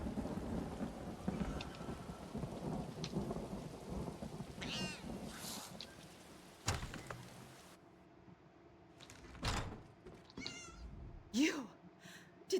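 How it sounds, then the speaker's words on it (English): A thunderstorm in the video game Elder Scrolls Online, in Stormhaven: low thunder rumbles and steady rain wash, with someone talking, meow-like cries and other game sounds breaking through. "great timing on the mood rain"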